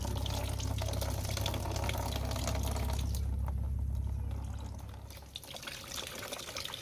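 Water squeezed by hand from grated Polynesian arrowroot pulp runs and splashes steadily into a container for starch, a continuous trickling pour that eases off near the end.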